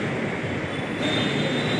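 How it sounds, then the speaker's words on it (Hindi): A Delhi metro train rumbles loudly and continuously at close range, with a steady rolling roar and a thin high wheel squeal. "पहली बार मेट्रो में जा रहा हूँ"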